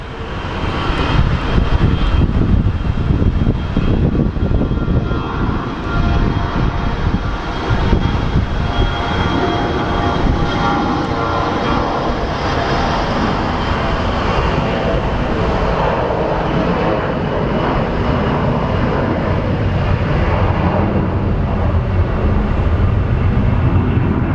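A passenger jet climbs out on a flight bound for Sioux Falls, its engines a steady, loud, broadband roar that holds strong for the whole stretch with no voices over it.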